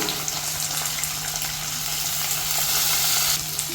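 Ginger, garlic, onion, green chillies and dried red chillies sautéing in a pan, giving off a continuous, even sizzling hiss close by that holds steady throughout.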